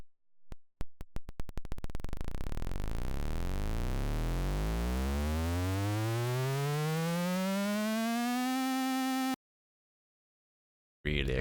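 A synth square lead starts as rapid clicks that speed into a buzzing tone and slides up in a long, exaggerated pitch glide to its note, loud and alone, then cuts to silence before a brief return.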